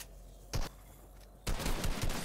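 Gunfire in Fortnite: a single sharp shot early on, then a rapid burst of several close, loud shots crackling together near the end over a quiet background.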